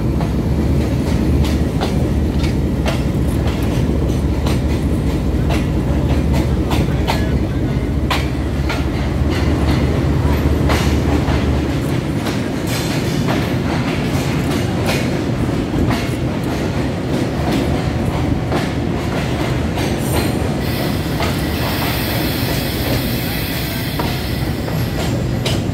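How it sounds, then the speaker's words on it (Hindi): A passenger train on the Lahore to Islamabad line rolls into a station, with loud continuous rumble and rhythmic clickety-clack of wheels that eases and shifts as it slows, plus a faint high squeal near the end; no talking. "इसी का नाम ट्रेन है। और ये देखें स्टेशन आ रहा है"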